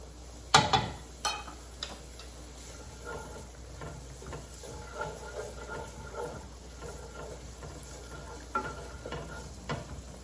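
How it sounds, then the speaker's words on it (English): Carrots cooking in garlic and oil in a pan give a soft, steady sizzle with light clinks and scrapes of stirring, a few sharper knocks near the start, and no talking. "I'm going to let the carrots cook in the garlic and oil for around 4 minutes"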